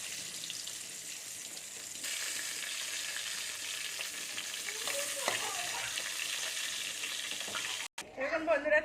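Stuffed pointed gourd (potol) sizzles steadily in hot oil, a continuous crackling fry with light stirring sounds, ending in a brief cut followed by a louder burst of clattering and sizzle.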